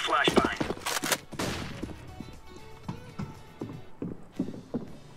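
A flashbang grenade thrown in a multiplayer video game gives a sharp bang and ringing burst near the start, followed by scattered gunfire and footsteps while players talk over it.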